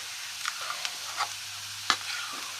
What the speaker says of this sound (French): Et maintenant j'ajoute mon lait de coco.